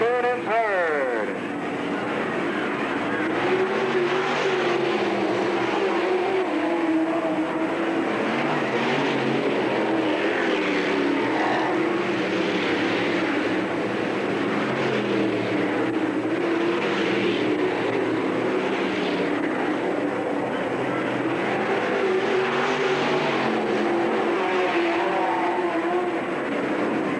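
Stock cars racing at Bureau County Speedway during a season opener, a continuous loud roar of engines droning steadily throughout with a commentator talking over it.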